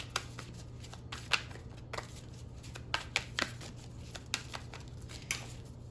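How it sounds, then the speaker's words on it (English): Oracle cards are shuffled quietly, a run of soft papery riffles and flicks in an irregular rhythm, close but faint. "I am going to pull some oracle cards now"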